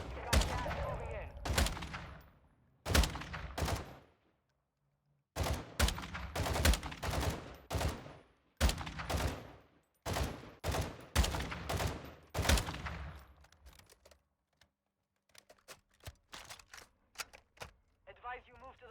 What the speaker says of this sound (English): Yeah, I think the sniper's taking pot shots.